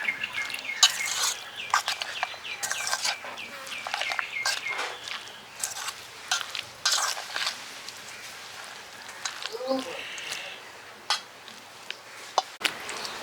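A spatula mixes chicken shawarma filling in a pan, producing a run of quick scraping and tapping strokes against the metal at an uneven rhythm, fairly close and moderately loud.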